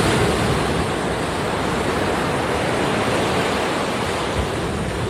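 Ocean surf breaks steadily at Dominical on the Costa Rican coast, a loud, dense and continuous wash of waves mixed with wind noise, with no voices.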